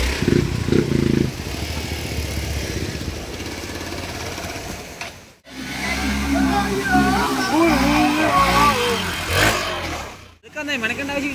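Motorcycle engines on a rainy-season off-road trip, a steady rumbling drone with revving swells, broken by two brief cuts; people talk over the engine noise.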